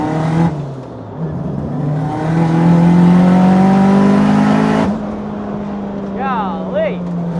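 A turbocharged race car accelerates on track, engine droning and rising in pitch with a strong harmonic whine, cutting back sharply near five seconds and then settling into lower revs with a quick warbling shift.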